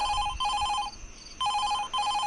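A telephone rings at three in the middle of the night, sending out two bursts of a bright, buzzing electronic bell with a short silent gap between them, loud and close, with no voices over it.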